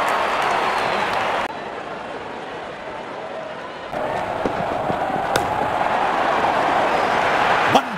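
Crowd applause in the cricket video game RC24 at an IPL match between RR and LSG, a bright burst of clapping and cheering that dips and then swells again, with commentary voices over it.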